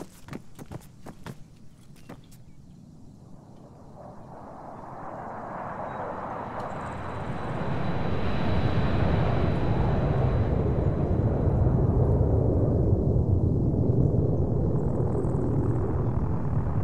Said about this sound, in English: Aircraft coming in.